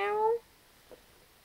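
A pet cat at home lets out one short, loud, tonal meow at the start, followed by near silence and a faint soft thump.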